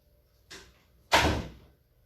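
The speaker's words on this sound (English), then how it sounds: "You don't have to shut your door every time you come out, buddy, because it's making loud noises" A door is shut twice in an indoor room, a softer close followed by a loud, sharp slam, with quiet between them.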